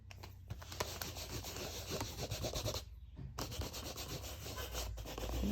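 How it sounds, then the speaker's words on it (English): A rubber stamp inked in Blackberry Bliss is scrubbed clean on a Stampin' Scrub pad, giving close, steady rubbing and scuffing strokes that run almost continuously with a couple of brief pauses. "clean off that butterfly stamp because it's got the Blackberry Bliss ink on it. So let me grab that. I like to use the Stampin' Scrub."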